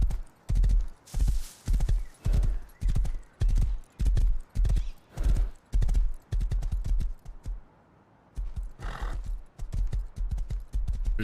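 Horse hooves clip-clop steadily through a forest while riding in a video game, loud and close in even bursts of rapid beats, with a short pause near the end and a whinny heard once.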